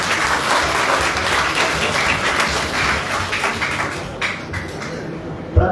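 A crowd applauds at a Muslim Rashtriya Manch voter awareness rally, loud dense clapping from many hands that carries on steadily before thinning out near the end.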